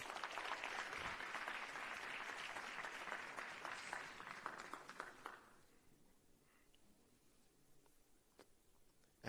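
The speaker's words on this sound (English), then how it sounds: "Another round of applause for Mpumelelo Msipa." Summit audience applause, a steady round of many hands clapping that fades out after about five seconds, leaving quiet room tone with a few faint scattered claps.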